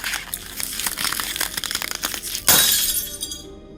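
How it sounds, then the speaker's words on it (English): A glowing ball of light shatters as a sound effect in a fantasy audiobook: crunching, crinkling glassy rattles build, then one sharp bright burst of breaking glass rings out and tinkles away. "clenching his hand until the light shattered."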